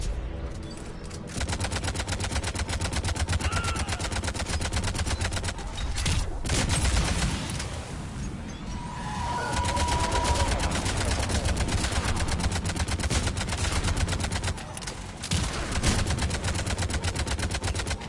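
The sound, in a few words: Harvesters firing on the Turians, Mass Effect 3 video game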